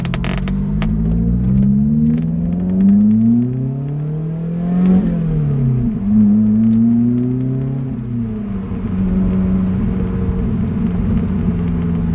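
A car drives with engine tones climbing and falling through the gears, including a downshift with a quick rev blip midway, the rumble loud and close throughout.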